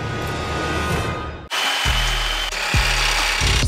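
A power tool cuts through a Mazda Miata rally and autocross car part, starting with a steady grinding whine that switches into a louder, close cutting sound with repeated low pulses.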